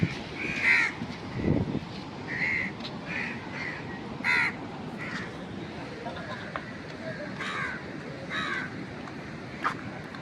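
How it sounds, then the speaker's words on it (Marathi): A flock of crows gathered around stray dogs eating dog food caws repeatedly, with sharp calls scattered across the scene at varying distances, while people talk nearby. "आणि कावळे पण खूप आलेत."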